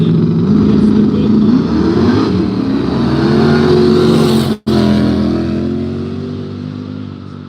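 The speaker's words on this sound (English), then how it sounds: "Left-hand lane, the 72 Chevy Nova. The 396 big block up against Brian Johnson." A 1972 Chevy Nova with a 396 big block drag racing at a no-prep event, loud sustained engine roar with rising revs, a brief dropout, then fading slightly.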